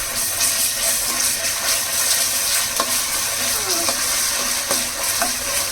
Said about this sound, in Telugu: కొంచెం వేగింది కదా ఉల్లి వెల్లుల్లి పేస్ట్ వేస్తున్నా